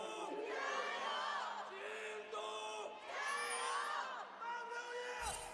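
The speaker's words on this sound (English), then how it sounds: "Crowds have done their yelling." Large esports arena crowd at a League of Legends playoff match yelling in unison, loud sustained chanting and roaring in repeated waves, ending abruptly.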